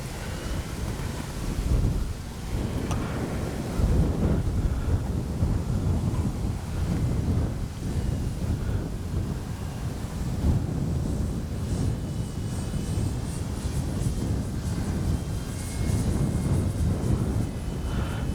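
Durafly Slowpoke RC plane flying in strong gusty wind, a steady loud roar of wind buffeting the microphone with a low motor drone blended in throughout, surging in gusts.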